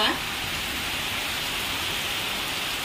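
Heavy rain during a storm, a dense, steady hiss of downpour on surfaces that stays loud and even throughout, with no voices.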